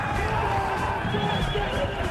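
Cavalry horses charging at full gallop, with a loud, continuous rumble of pounding hooves and repeated neighing and whinnying over the top, dense and close throughout.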